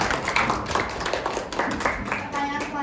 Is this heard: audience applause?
yes